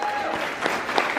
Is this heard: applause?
yes